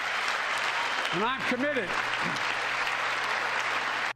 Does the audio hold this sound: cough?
no